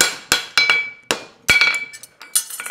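Steel rings sharply as a horseshoe is stamped on an anvil during forging, with about half a dozen separate ringing metallic strikes in an irregular rhythm, close and clear with no talking.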